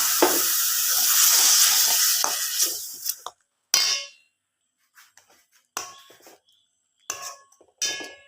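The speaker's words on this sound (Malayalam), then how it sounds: "നമുക്കിനി മിക്സിയിൽ അടിച്ച് വെച്ചിരുന്ന തേങ്ങയും പാലും ഒക്കെ കൂടെ ഇതിലേക്ക് അങ്ങ് ഒഴിച്ചു കൊടുക്കാം" Ground coconut and milk hit a hot pan of sautéed chilli and ginger, a loud hissing sizzle for about three seconds, then quiet broken by short clangs and brief stirring sizzles.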